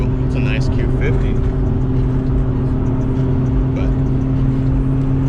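Infiniti Q50 with intake and exhaust modifications cruising on the road during the day, a steady loud engine drone and road rumble heard from inside the cabin.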